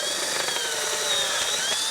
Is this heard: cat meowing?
no